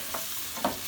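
Stirring in a paella pan with olive oil heating: under a faint background sizzle, a brief spoon scrape comes early, then a second, slightly louder one, all very short.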